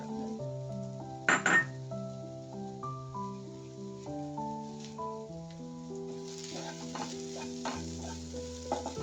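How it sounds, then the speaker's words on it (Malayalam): A cup of grated coconut roasts in a little oil, with a soft steady sizzle, spoon stirring and occasional metallic clinks under louder background music. "കുറച്ച് എണ്ണ ഒഴിച്ച് നമുക്ക് തേങ്ങ ഒന്ന് ചെറുതായിട്ട് അതിന്റെ വെള്ളം പറ്റുന്ന പോലെ ഒന്ന് വറുത്തെടുക്കാം"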